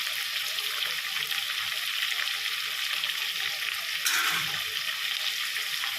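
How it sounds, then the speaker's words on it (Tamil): Onions sautéing in a pan for chicken gravy, a steady hissing sizzle with one short scrape partway through, close and without talk. "வெங்காயம் போட்டு நல்லா வதக்கணும்."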